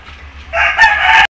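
A rooster in a flock of chickens suffering from colds gives a single loud, close crow that ends abruptly, preceded by a quiet low hum, with no talking.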